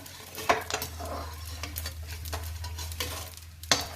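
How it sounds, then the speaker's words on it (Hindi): Edible gum (gond) fries in ghee for winter laddoos, a steady soft sizzle broken by a few sharp clinks of a spoon stirring against the pan. "इसी तरीके से मैं सारी गोंद को फ्राई कर लूँगी।"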